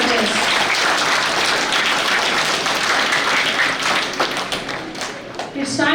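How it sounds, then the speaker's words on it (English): Audience applause at a school Independence Day inter-house competition, a dense, steady wash of many hands clapping close by for several seconds, thinning slightly near the end. "Let's give a huge round of applause to all of you judges."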